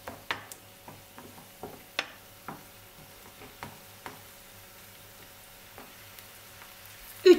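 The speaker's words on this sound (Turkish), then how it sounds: "Yarım çay bardağı kadar sıvı yağında soğanlar küçülene kadar kavuruyorum" Onions frying in oil in a pot give off a soft, steady sizzle, broken by scattered clicks and taps from stirring, with a louder clatter at the end.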